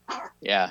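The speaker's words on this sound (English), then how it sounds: "I apologize for the dog talking." A dog whines and yips in two short, close cries separated by a brief pause, with a single quick spoken word nearby.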